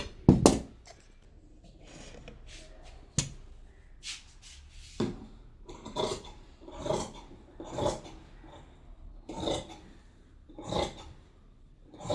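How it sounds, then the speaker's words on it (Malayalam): Scissors cutting fabric for loose pants, a series of rasping, crunchy snips and rubbing strokes at a slow irregular pace, close and moderately loud, with no talk. "ഇത് കട്ട് ചെയ്തെടുക്കുമ്പോൾ സൂക്ഷിച്ച് വേണം കട്ട് ചെയ്തെടുക്കാനായിട്ട്."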